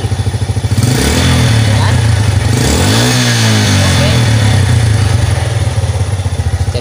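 A Yamaha Jupiter motorcycle engine idles with a rapid putter, then revs up loudly under throttle and settles back to a steady, throbbing run, close by, with a few short spoken words over it.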